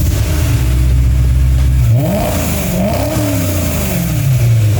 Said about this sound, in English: this car actually came with an exhaust